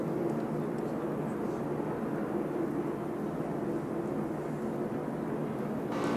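NASCAR Busch Series race car at Atlanta with a blown engine, a steady loud roar of engine and track noise filling the whole stretch, with no clear break or pop.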